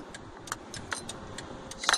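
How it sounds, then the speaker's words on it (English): Metal medals hanging from a small light clink together in light, scattered metallic taps, faint and irregular, with a brighter cluster near the end. "if you hear that clinking in the background, it's my medals that are hanging off of my little light thing"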